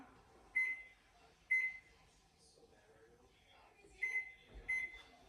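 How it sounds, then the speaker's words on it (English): A kitchen timer in a home kitchen where cookies are baking beeps in short high bursts: two single beeps, a pause, then two more, faint and close. "Timer."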